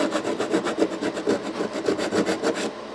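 Guitar frets on a Les Paul-style guitar are sanded flat with 150 grit sandpaper, giving a close, steady back-and-forth rasping in even strokes of about four per second with no talk.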